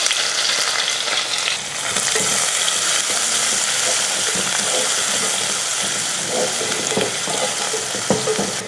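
Small onions sauté in hot oil with fenugreek seeds, curry leaves and garlic for a parai fish curry, giving a loud, steady, close sizzle with faint stirring scrapes throughout.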